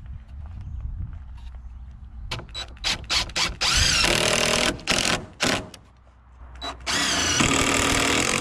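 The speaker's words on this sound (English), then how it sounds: "I like putting screws where the two boards meet." A power drill drives screws into wooden boards on a post-and-beam barn build, several loud whirring bursts of a few seconds each with short pauses between, close up and alone.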